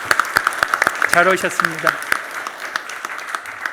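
A church congregation claps to welcome visiting parents during Sunday worship, a brisk run of distinct claps, with someone talking briefly over it partway through before the clapping thins out.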